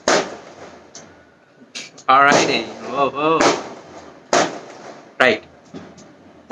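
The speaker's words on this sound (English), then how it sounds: "most people have some firecrackers, right?" Firecrackers go off outside in a series of sharp, irregular bangs, some isolated and some clustered, while someone speaks over them indoors.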